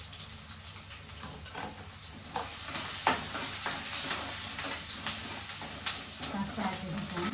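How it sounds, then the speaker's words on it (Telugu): Chopped onions sizzle and crackle in hot oil in a pan for brinjal-tomato pickle, a steady close frying hiss with scattered pops and stirring clatter. "ఆనియన్స్ కూడా యాడ్ చేస్తున్నాను"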